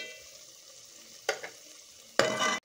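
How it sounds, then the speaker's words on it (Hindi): Donuts deep-frying in hot oil give a steady soft bubbling hiss, with two brief louder surges of sizzle or stirring near the end; no one talks. "ये देखें अभी मैं और फ्राई कर रही हूँ"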